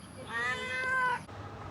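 A cat gives a single clear, close meow lasting about a second, rising and then falling, over a quiet background hum with no talking.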